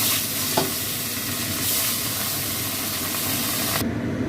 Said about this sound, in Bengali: এই একে একে সব মাছগুলো আমি এরকম করে ভেজে নেব।